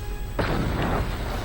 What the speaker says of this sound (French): Tiens, grenade!